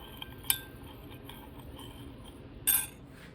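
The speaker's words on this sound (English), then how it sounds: "Stir that up." A spoon stirs half a teaspoon of honey into a small kitchen mixture, with soft scraping and a couple of light metallic clinks against the container, close by and quiet.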